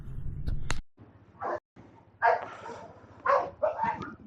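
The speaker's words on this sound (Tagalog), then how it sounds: "Ingay nung aso natin." A dog barks several times in short separate bursts at dawn, near and fairly loud, with brief pauses between the barks.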